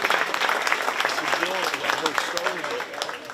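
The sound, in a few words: applause for livestock show exhibitors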